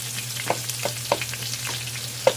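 Tomato hits hot cooking oil in a pan for an upo dish, a steady sizzle and crackle broken by several sharp pops and spatters, close and with no talk.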